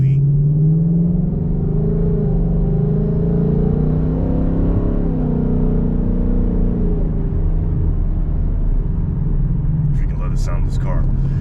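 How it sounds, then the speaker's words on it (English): A Ford Mustang GT S550 engine idles with a deep, steady rumble, rising briefly in a smooth rev before settling back, loud and close throughout with no talk over it. "sound of this car"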